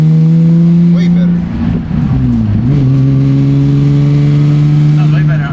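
A Nissan 350Z with an aftermarket exhaust idles close by with a steady low drone, blips briefly into a quick rev and falls back to a smooth idle, with voices underneath.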